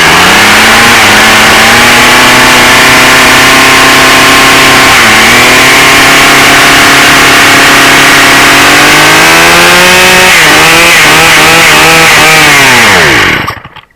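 A hot Stihl 038 chainsaw runs with the choke off, a loud, steady two-stroke drone that dips briefly and revs up near the end before cutting out abruptly.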